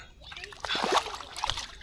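A caught fish slips back into the water from a method-feeder fishing session, giving a short close splash and slosh with trickling drips, while a faint voice is present in the background.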